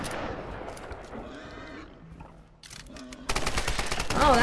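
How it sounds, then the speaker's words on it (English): Shotgun blasts fired at a boar in the video game Tomb Raider, loud booming shots with an animal squeal, a brief lull, then a rapid dense burst of firing. "one tanked a shotgun shell. It's pretty beefy boar."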